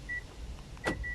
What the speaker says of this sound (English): This car is equipped with the keyless entry, so you can test that it works